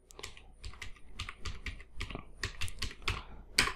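Quick bursts of typing on a computer keyboard during data entry, keys clicking in an uneven, steady rhythm up close, ending on a sharper keystroke, with no voice.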